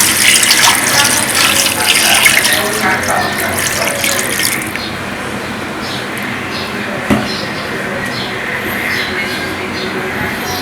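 About 1.5 litres of water poured into a pot of beef for Peshawari namkeen gosht, a loud, close rushing pour for the first few seconds, then a quieter bubbling with a single clink.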